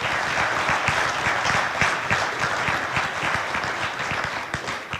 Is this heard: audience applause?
yes